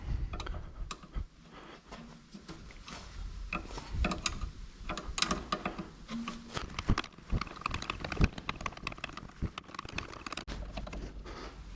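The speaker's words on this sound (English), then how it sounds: "So the next thing, loosen this brake line" A wrench turns on a metric 11 mm car brake line fitting, giving a run of close, irregular metallic clicks and ratcheting taps with small scrapes.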